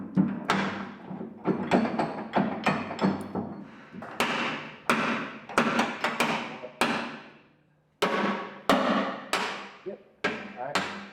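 Heavy hammer blows strike metal on a broken-down machine with hydraulic problems, sounding as a steady series of loud, sharp ringing impacts, roughly two per second with brief pauses.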